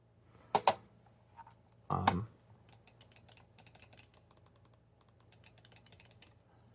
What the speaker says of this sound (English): This middle click is the worst out of all of them